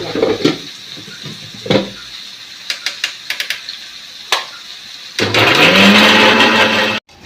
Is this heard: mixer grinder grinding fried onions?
yes